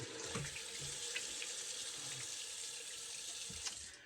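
Water running steadily from a tap into a sink during a rinse after shaving, a constant close splashing hiss with a few faint knocks, fading slightly at the very end.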